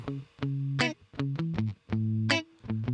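Distorted electric guitar notes and chords through a Pulsar Modular P42 Climax line amp plugin, loud and saturated, played in short separated bursts with brief silences between them.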